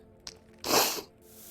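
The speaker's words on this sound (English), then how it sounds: "Cleaning spray. Need to clean out this magazine." A cleaning spray is squirted onto a gun magazine in the VR game Into the Radius: a faint click comes first, then one short, fairly loud hiss of spray that lasts about half a second and fades out.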